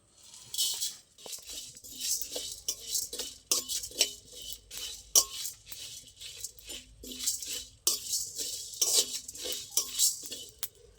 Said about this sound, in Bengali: এগুলো একসাথে আমি শুকনো খোলায় একটু নেড়ে নেব